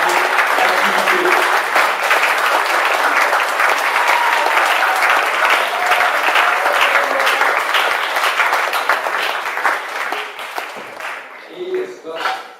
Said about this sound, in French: Donc on peut applaudir cette armée secrète qui prépare tout au long de l'activité.